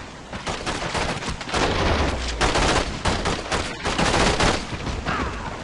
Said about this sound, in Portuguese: É só pegar a arma dele e sair metendo bala em todo mundo